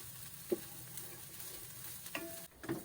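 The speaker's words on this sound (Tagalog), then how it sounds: "Sa isang kawali, maglagay tayo ng mantika at painitin ito. Igisa natin ang sibuyas," Onion and garlic sauté in hot oil in a pan, giving a steady soft sizzle with a few stirring scrapes and clinks, quiet and close.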